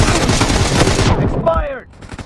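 Loud, dense bursts of rapid gunfire from a PUBG Mobile 4v4 match fill the first second, then cut off as a short in-game voice speaks over faint background sound.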